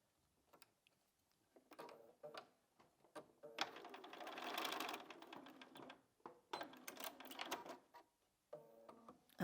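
A home sewing machine stitches a curved drunkard's path fabric seam, heard as faint bursts of rapid mechanical ticking and whirring, separated by short pauses, with quiet handling in between.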